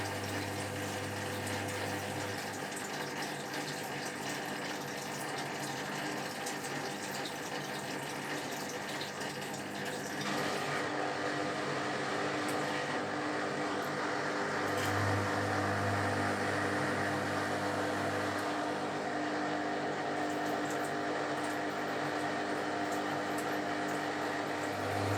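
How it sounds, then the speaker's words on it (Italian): A Zerowatt Hoover Performa 1000 washing machine's drain pump hums steadily and loudly throughout, with water gurgling through it, a low tone cutting in and out partway through. "La pompa ogni tanto funziona, ogni tanto no, va sostituita anche lei."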